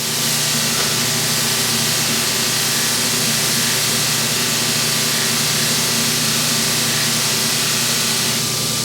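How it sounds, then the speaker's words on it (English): A bench buffing wheel loaded with white compound polishes the edge of a packable draw knife, giving a steady, loud whirring hiss with a constant motor hum throughout, no talking. "Now we're going to bring this tool over to the buffer. A little bit of white compound on there."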